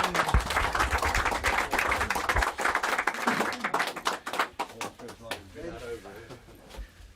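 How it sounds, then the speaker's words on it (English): A television studio audience on a sports quiz show claps in a big round of applause that starts loud and dense, then thins into scattered, sharper claps as it fades. "Give him a big round of applause, everybody."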